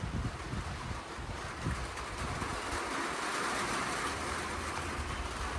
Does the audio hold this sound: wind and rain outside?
yes